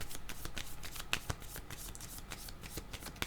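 Tarot cards shuffled by hand in a steady run of soft riffling and slapping, with a few sharper snaps, close and fairly quiet with no talking.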